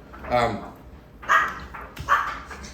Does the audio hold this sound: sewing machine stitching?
no